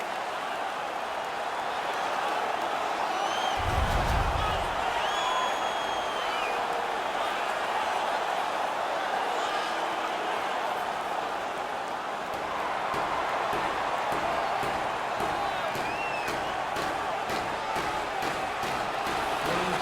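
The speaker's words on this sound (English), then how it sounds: "The crowd is all over them right now." Steady roar of a hockey arena crowd in the NHL 19 video game, with a continuous sustained cheer bed throughout, whistles and brief calls on top, and a low thump near the start.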